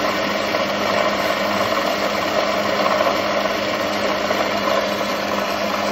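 A Rolux machine converted from a gasoline motor to a battery-powered motor runs at its fast speed, giving a steady, even whir and hum at constant level for the whole stretch, close by with no voices.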